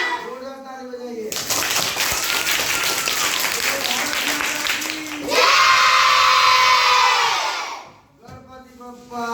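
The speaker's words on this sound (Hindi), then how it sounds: "जोरदार ताली बजाइए।" An audience claps and cheers in a loud, dense burst that lasts about seven seconds, with a voice briefly heard before and after it.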